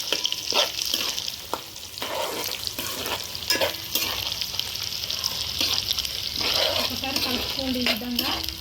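Chopped onions with green chillies frying in oil for a fish curry, a constant sizzle broken by repeated scraping and knocking of a spoon stirring the pan, close and moderately loud, no talking.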